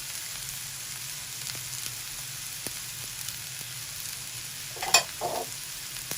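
Carrot, capsicum and cabbage stir-fry over a high flame for chicken spring roll filling, a quiet steady sizzle with faint ticks and a couple of brief utensil clinks near the end.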